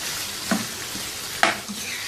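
Chicken frying in a pan for a restaurant-style chicken handi, giving a steady close sizzle with two sharp scrapes of a stirring spoon against the pan.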